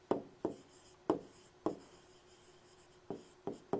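Chalk taps and short strokes on a classroom board during a live English lesson, about seven sharp ticks in an uneven rhythm, close and fairly quiet, with no talking.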